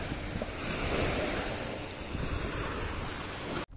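Sea waves wash steadily in a broad, roaring hiss with wind buffeting the microphone, continuous and fairly loud, no voices.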